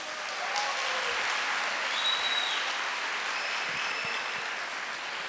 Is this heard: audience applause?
yes